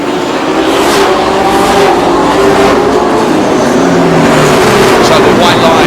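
American stock cars racing around a track, a loud continuous roar of several engines droning and revving together, with a commentator talking over the noise.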